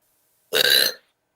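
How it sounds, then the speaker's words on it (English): A single burp, short and clear, rising suddenly and fading within about half a second against otherwise silent surroundings. "A random burp from a random universe."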